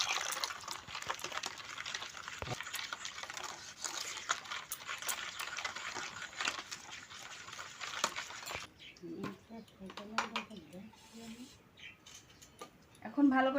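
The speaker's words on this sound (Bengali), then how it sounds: "এখন আমি জল দিয়ে দেবো।" Water poured into melted caramelized sugar in a pan while making raw mango ice cream, a broad steady liquid hiss filling the first half before stopping, followed by quieter clinks and kitchen handling.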